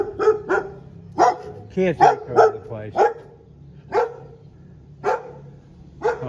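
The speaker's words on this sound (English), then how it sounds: "There's a dog in there." Several dogs bark in short separate bursts at moderate distance along a hillside walk in Lourdes, with sharper yelps mixed in, while a person talks briefly over them.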